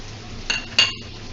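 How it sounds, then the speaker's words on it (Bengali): A spoon stirs cauliflower curry with tomato and capsicum in a pan, giving two quick, quiet metallic clinks and scrapes over a low background hum. "এবার এতে আমি টমেটো আর ক্যাপসিকামটা দিয়ে দিলাম। এটাকে একটু ভালোভাবে নেড়েচেড়ে নেব।"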